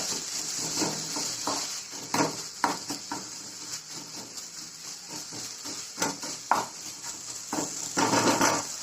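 A spoon stirs and mixes Kerala-style spicy dates pickle with salt in a pan over low flame, giving repeated scraping and knocking strokes against the pan above a steady faint sizzle.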